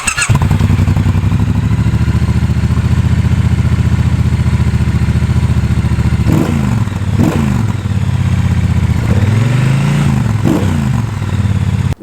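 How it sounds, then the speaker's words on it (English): A Triumph Bonneville Bobber on its stock exhaust idles with a deep, even, throbbing beat up close, then gets several quick throttle blips that rise and fall before settling back. "this exhaust system I think is fantastic. It's one of the nicest sounding stock exhausts"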